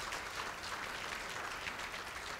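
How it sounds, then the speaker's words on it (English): Steady crowd applause fills a hall of fame ceremony for a school athletics program, a dense even wash of clapping at moderate loudness with no voices over it. "Give her a round of applause for that."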